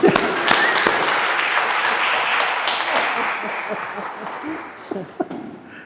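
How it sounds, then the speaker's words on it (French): A congregation applauds during a Sunday Mass in church, a broad wash of clapping that starts strong and slowly thins out, with a few louder individual claps near the end. "donc on va l'applaudir"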